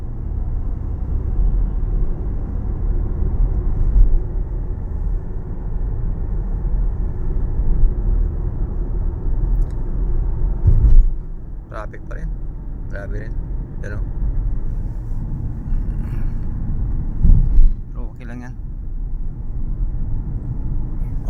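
Road traffic crawls across a bridge in Quezon City near Ortigas, a constant low rumble of engines and passing vehicles with louder swells as some go by, while someone talks over it.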